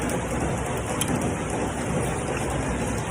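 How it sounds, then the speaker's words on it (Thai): Steady rain pours down in rural Maha Sarakham, Thailand, a dense continuous hiss of drops on surfaces with no break throughout. "บรรยากาศฝนตก"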